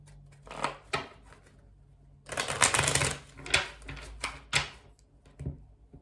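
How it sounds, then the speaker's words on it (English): Tarot cards are shuffled in quick riffling bursts, with a few short papery rustles and snaps close by and no voices. "we'll do one final shuffle"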